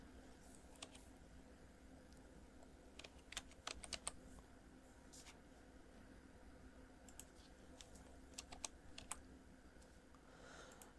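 Soft, faint keystrokes on a computer keyboard as a search term is typed into a search bar, coming in small irregular clusters of clicks over a quiet background hum.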